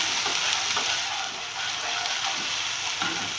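Garlic ginger paste fries in a pan while being stirred for black chana chaat, giving a steady close sizzle with soft scraping stir strokes throughout.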